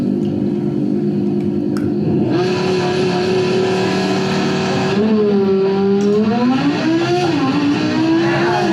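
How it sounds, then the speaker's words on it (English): A Lamborghini engine revs loudly and steadily, its droning growl rising and dipping in pitch with several swells of throttle toward the end. "It's a Lamborghini making all the noise."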